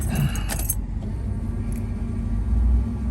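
A fuel-injected 1972 Chevrolet Chevelle with a brief jangle of keys, then a steady, loud low engine rumble that holds to the end at close range.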